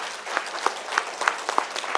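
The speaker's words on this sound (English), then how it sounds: "give them a huge round of applause" A summit audience applauds a panel session, steady crowd clapping with scattered sharper claps throughout, moderately quiet and continuous, with no talk over it.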